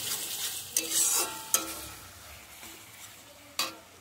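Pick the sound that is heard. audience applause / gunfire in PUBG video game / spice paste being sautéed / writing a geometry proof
spice paste being sautéed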